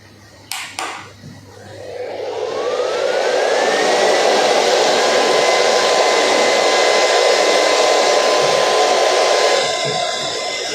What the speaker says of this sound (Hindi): ये बहुत ही पावरफुल वैक्यूम क्लीनर है।